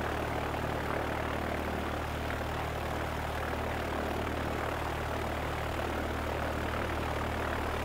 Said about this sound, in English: On the center line, it's time for full power.